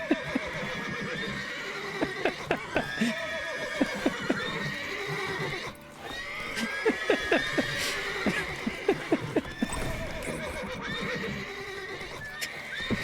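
Horses whinnying and neighing in The Witcher 3: Wild Hunt, repeated loud calls over a steady busy background of clip-clopping hooves and game ambience, with no talk.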